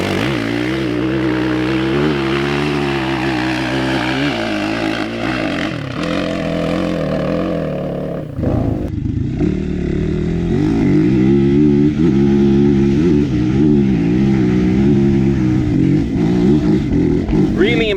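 Dirt bike engine pulling hard up a steep enduro hill climb in third gear, loud and close, its pitch rising and wavering as the revs surge, briefly dipping near the crest before roaring on steadily.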